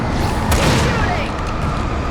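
Gunshots in Alan Wake Remastered: one loud, close blast stands out against a dense, noisy backdrop of combat sound, with a voice shouting over it.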